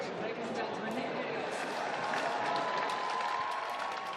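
Wimbledon crowd applauding and cheering steadily after a tennis match, a dense continuous wash of clapping with voices mixed in.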